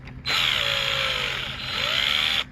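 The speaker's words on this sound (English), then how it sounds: "I just use my drill." A power drill drives the starter bolts on a Polini 190 engine, one steady, loud motor whine lasting about two seconds with a slight dip in pitch midway, heard alone.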